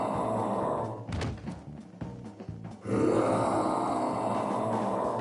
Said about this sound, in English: Don't fucking bang on me table